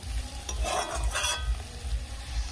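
Figs fry in oil in a pan, a close, steady sizzle with a few brief bursts of louder crackle as the pieces are stirred, and no voices.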